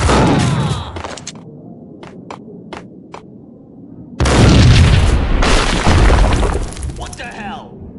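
A loud explosion booms in the Max Payne mobile game, a sudden wide blast with crashing debris that rumbles on for a few seconds, preceded by sparse clicks and shouting voices.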